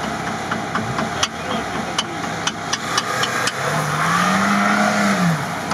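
A stock Lada Niva grinds off-road over a river-bank hump, its engine droning and rising in a revving swell near the end while sharp knocks and clunks from the body punctuate the run.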